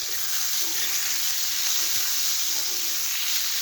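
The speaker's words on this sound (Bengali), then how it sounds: "এখন আমি ওই তেলে পটলটা ভেজে নিচ্ছি।" Pointed gourd pieces, pre-coated with salt and turmeric, frying in hot oil, giving a steady, continuous sizzle at close range with no talking.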